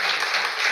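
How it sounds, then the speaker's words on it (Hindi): An audience at a motivational talk bursts into dense, steady clapping, a continuous hiss of many hands held at an even level for the whole brief moment. "तो भूमिका के लिए एक बार तालियां बजाइए।"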